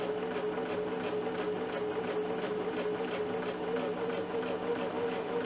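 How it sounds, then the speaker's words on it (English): A Bernina sewing machine stitches steadily along a drawn line on fabric, giving a continuous, even mechanical whir at close range with no talking. "So I'm going to just sew right with the line that I drew, right on the right hand side of my presser foot."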